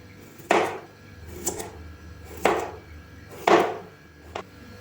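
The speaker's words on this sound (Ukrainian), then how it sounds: "150 грам свіжого огірка теж нарізаємо пластинками." A knife cuts fresh cucumber into thin slices on a board, making four distinct chopping knocks at uneven intervals followed by a lighter tap. The cuts sound close and clear against a quiet background.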